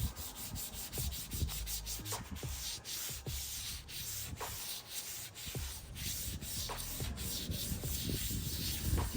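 Primer on a foam and fiberglass prototype is lightly hand-sanded, producing a steady series of close, rhythmic rasping strokes with no talking.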